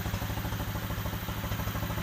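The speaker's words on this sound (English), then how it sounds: "The idle drops back to where you want it." A cheap secondhand pit bike engine idling up close, a steady fast-pulsing putter with even rhythm, loud and alone.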